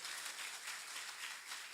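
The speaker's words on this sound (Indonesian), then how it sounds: "Tepuk tangan untuk kelompok satu." Faint, steady applause from a youth group at a closing Mass in a parish in West Nias, a soft continuous patter of clapping heard from a distance.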